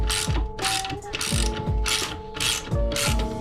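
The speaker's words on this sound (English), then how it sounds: "We've got the same again, an 18mm nut. You can get away with the socket on one side" A socket ratchet clicks in quick rattling bursts, about five rhythmic strokes, as it turns an 18mm nut on an electric scooter, close and clear with no talking.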